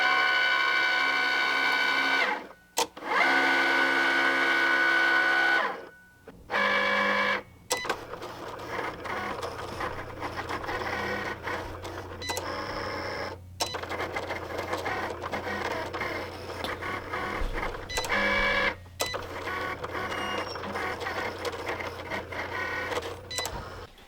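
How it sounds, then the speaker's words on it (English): A Cricut cutting machine cuts a sticker sheet, starting with loud whirring loading moves and pauses, then a long stretch of steady motor hum with rapid rhythmic carriage clicks and short buzzing strokes, close and mechanical, with no talking. "you put the mat into the machine and you click go."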